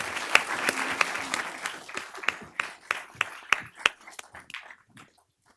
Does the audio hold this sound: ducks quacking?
no